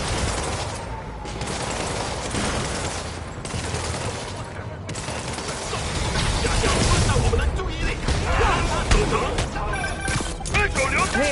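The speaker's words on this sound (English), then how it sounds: "Way too many bullets flying over there." Gunfire rattles through a Marvel's Spider-Man game scene, dense bursts of shots and crashes overlapping with busy game noise and music, loud and steady throughout with no break.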